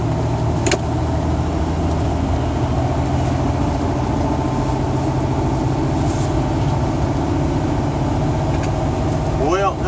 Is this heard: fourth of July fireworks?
no